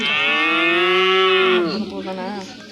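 A person imitates a cow with a long, loud, close vocal moo that holds steady and then bends downward before trailing into a shorter, wavering tail.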